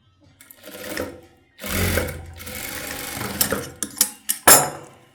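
An electric sewing machine stitches a blouse in loud whirring runs separated by short pauses, ending with sharp clicks and clatter as the fabric is handled, with no talk.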